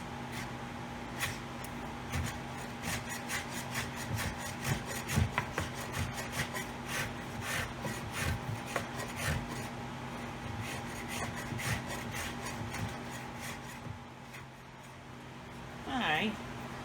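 Sanding wood by hand with 120-grit sandpaper wrapped on a wooden block during a guitar neck reset, a rapid run of scratchy rubbing strokes, close and fairly quiet, over a steady low hum from a nearby dehumidifier.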